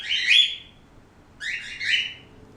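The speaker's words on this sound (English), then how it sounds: "As you can hear, my birds are talking to each other." Two bursts of high, bright chirping from pet birds calling to each other, one right after another with a short pause between, fairly close and with no voices.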